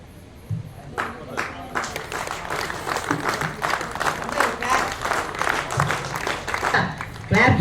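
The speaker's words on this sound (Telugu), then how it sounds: "క్లాప్స్ కొడతారు." Audience clapping at a Vasavi Club founding anniversary celebration in Mansoorabad, a steady patter of many hands rising after a spoken announcement and continuing under a voice, with a louder burst at the end.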